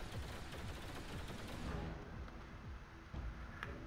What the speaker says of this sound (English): Just firing the particle accelerator cannons.